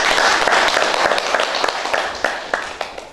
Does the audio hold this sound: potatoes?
no